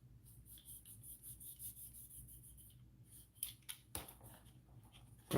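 Scissors cut through a piece of craft material: a few quiet, close snips and rasping scrapes after a stretch of soft handling noise.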